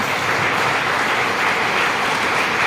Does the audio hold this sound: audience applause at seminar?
yes